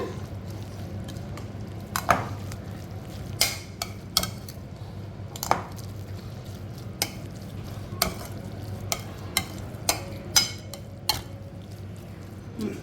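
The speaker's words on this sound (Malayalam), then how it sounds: "നല്ലപോലെ നമ്മളൊന്ന് മിക്സ് ചെയ്യാണ്" A spoon stirs curd into a thick watermelon-rind pachadi in a pot, wet squishing with sharp clinks against the rim at irregular intervals, close and without speech.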